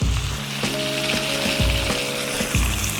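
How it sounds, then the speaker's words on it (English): A steak sizzles loudly in a hot pan as it is flipped onto its uncooked side, a dense continuous crackle close up with a few low thumps and scraping clanks from the pan and utensil. "We're gonna give this steak another flip, but this time we're gonna flip it on the side that we have not cooked yet."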